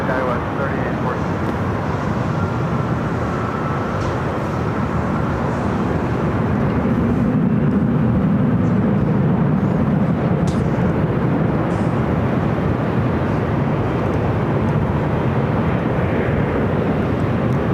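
An airliner takes off from the north side of LAX, its engines a loud, sustained roar that swells slightly midway and stays heavy throughout, with a voice talking over it.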